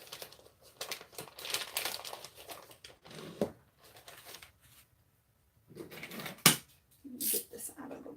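Paper liner being folded and creased for a soap mold, close crinkling and rustling in uneven bursts with sharp crackles and pauses between folds.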